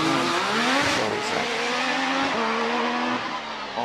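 A 2.5 litre hillclimb race car at Prescott launches and accelerates hard, engine revving loudly through rising gear pulls with a brief tyre squeal, close and continuous with no voices.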